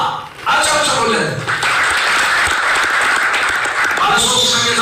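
An audience claps in a hall for a lottery winner of a three-bedroom house, loud sustained applause that swells after a brief dip and continues steadily, with an announcer's voice over it.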